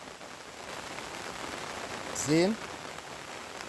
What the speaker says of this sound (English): Alright, so the rain is falling.